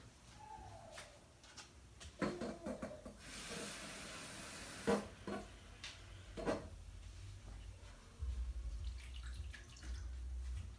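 About one and a half cups of water is poured into a pan of masala gobi (spiced cauliflower) cooking in ghee, giving a brief rushing splash followed by scattered drips and the clink of utensils.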